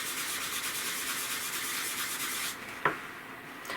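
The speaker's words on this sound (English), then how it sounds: "I'm going to take maybe a tissue and try to burnish this." Soft, steady rubbing of a tissue burnishing rose gold wax swatches on paper, a continuous close scuffing that ends with one brief sharper scrape.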